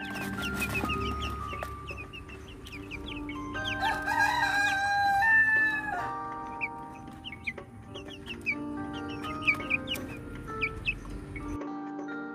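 Village chickens clucking around a rooster that crows loudly mid-way, followed by scattered close clucks and short calls from the flock outdoors.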